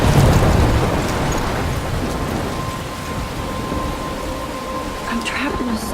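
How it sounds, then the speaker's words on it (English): Steady heavy rain pours through a thunderstorm in the Life Is Strange video game, with a low rumble of thunder rolling under the downpour at close range. "I'm trapped in a storm?"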